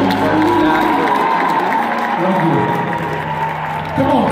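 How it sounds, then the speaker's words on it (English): Church congregation applauding and cheering in a loud, continuous wash of clapping and crowd voices, steady throughout with a swell near the end. "come on, clap your hands for"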